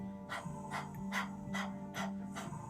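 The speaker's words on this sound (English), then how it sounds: "it would be like a dog panting like this" Rapid open-mouth panting in Breath of Fire yoga breathing, pumped from the navel. About seven sharp, even breaths arrive in a steady quick rhythm, close and soft, with no talk.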